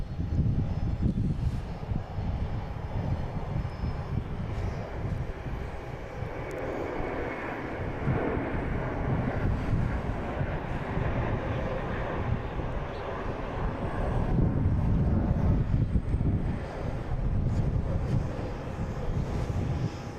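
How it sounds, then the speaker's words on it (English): A JetBlue airliner, flight 1487 bound for LAX, takes off at Boston Logan International Airport, its engines a steady, broad roar that stays loud and constant throughout, swelling slightly near the end, with wind buffeting the microphone. "And the JetBlue taking off, flight 1487, heading to LAX"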